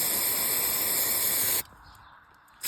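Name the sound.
spraying contact cleaner on motorcycle engine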